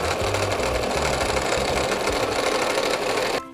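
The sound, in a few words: sewing machine stitching across apron pleats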